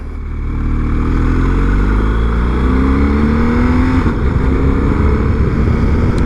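A motorcycle rider on the gas in first gear through a very tight left-hand hairpin, the engine note rising steadily and loud, close up, with steady wind and road noise and no talking.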